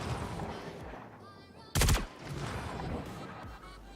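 Gunfire in the Star Citizen video game: one short, loud burst of shots stands out over a steady background of game ambience and low rumble.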